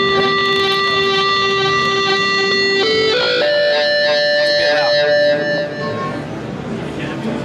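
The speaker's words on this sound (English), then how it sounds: "So this ball is going to control the gain of the distortion." A synthesizer guitar patch holds a distorted tone that shifts pitch partway through while the distortion gain changes, a loud sustained sound with no one talking over it.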